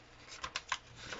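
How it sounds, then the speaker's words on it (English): Paper being folded for an origami jumping frog, a few soft, close crinkles and creases in quick succession over a quiet background. "First, we fold it just like that"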